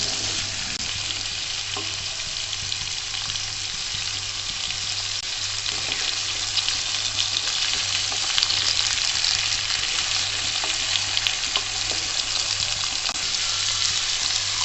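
Vegetables shallow frying and browning in a pan, a steady, dense sizzle that holds loud and unbroken throughout, close up with no talking.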